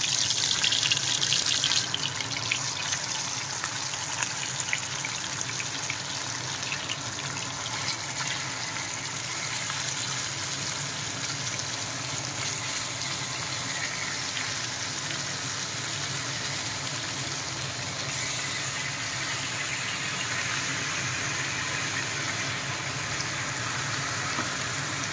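Marinated chicken pieces sizzle in hot oil in a pan while a Telugu-style chicken fry is cooked. A steady, dense frying hiss runs without pause for the whole stretch, with no voices.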